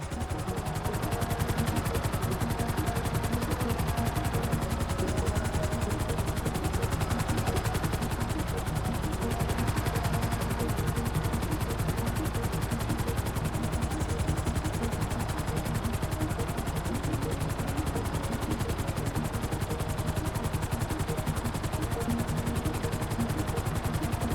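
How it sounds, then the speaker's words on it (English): A helicopter hovers in Grand Theft Auto V, its dense, constant rotor chop and engine roar filling the whole stretch with a steady, rapid pulsing and no speech. "I need you to hold the chopper above it while I take a look."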